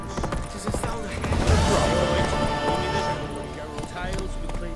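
Horse hooves clip-clopping in The Witcher 3: Wild Hunt on PS5 Pro, a steady rhythm of thuds mixed with game ambience and mechanical clatter, with voices talking over it.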